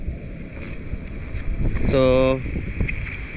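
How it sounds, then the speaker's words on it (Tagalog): Strong wind gusts across a cliff-top campsite above Cabangaoan Beach in Burgos, Pangasinan, a steady rough buffeting that rumbles on the microphone throughout, while a voice briefly speaks partway through. "Ang lakas ng hangin."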